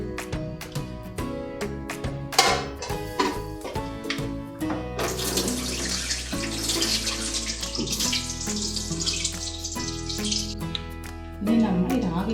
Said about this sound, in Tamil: இனி தண்ணியை வடிச்சிக்கலாம்.